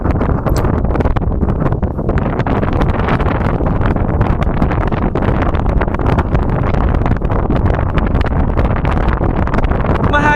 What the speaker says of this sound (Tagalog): Mahangin nga lang talaga ngayong araw